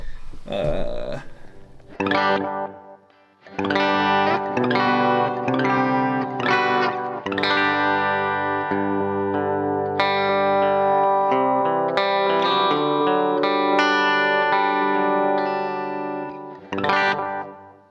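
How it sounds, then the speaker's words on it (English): Distorted electric guitar phrases ring out through a TC Electronic Flashback 2 X4 delay pedal in analog mode, dark repeating echoes trailing each note, played loud and close with brief pauses between phrases. "You can hear it's acting like an analog delay."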